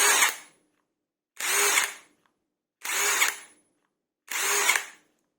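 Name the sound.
cordless impact wrench running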